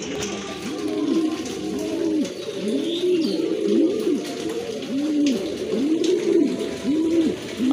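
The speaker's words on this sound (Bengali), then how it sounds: "আরেক জোড়া কবুতর দেখতে পাচ্ছেন" Pigeons coo steadily and close by at a bird market, a run of repeated rounded throaty calls about once per second, loud and alone without any talk over them.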